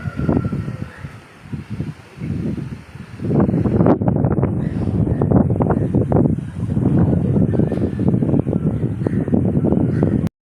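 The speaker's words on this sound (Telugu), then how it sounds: "గాలి చూడండి ఉన్నట్టుండి ఎక్కువైపోయింది." Strong, sudden wind gusts across a rural rooftop during rainy weather, roaring and buffeting loudly in waves that grow stronger after the first few seconds, with rustling noise throughout.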